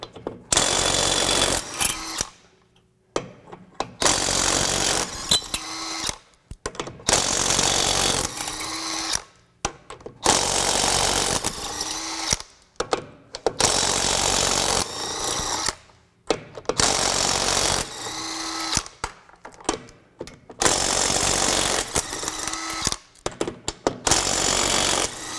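A Craftsman V20 brushless 1/2-inch drive impact wrench loosening rusted, dry bolts, loud repeated hammering bursts of a few seconds each, separated by brief pauses, close up.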